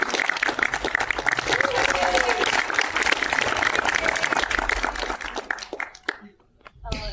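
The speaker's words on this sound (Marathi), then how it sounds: "जोरदार टाळ्या मानसी पाटीलसाठी." An audience at a film song launch event in Pune gives dense, sustained applause for actress Mansi Patil. The clapping fades briefly near the end.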